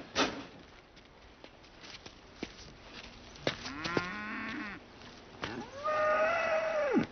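Cows in a pasture moo twice: a rising low call mid-clip, then a longer, louder sustained moo near the end, set against scattered knocks and faint background noise.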